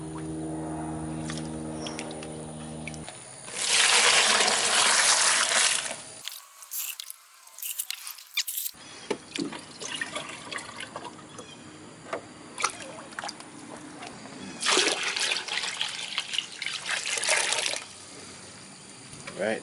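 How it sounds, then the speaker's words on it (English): Water is poured into a 5-gallon bucket to make homemade organic fertilizer, in two loud splashing bursts with clanking handling noises between them. "all we have to do now is add water to our 5-gallon bucket"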